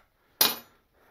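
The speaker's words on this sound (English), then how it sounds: "we'll take our 10 millimeter wrench, loosen up our lock nut" A single sharp metallic clink as a 10 mm wrench loosens the lock nut on the wheel adjuster of a 1970 Honda CB350, close and distinct against a quiet workshop.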